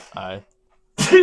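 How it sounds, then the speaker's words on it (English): A single sharp sneeze bursts out close to the microphone, followed after a short silence by a person speaking. "Excuse me, I had to sneeze."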